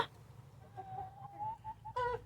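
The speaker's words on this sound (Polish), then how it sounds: "A jo, tu jest ten kogucik, no, ten czarny." A small black rooster gives a short, strained crow and a few clucks, moderately near, over a low background hum.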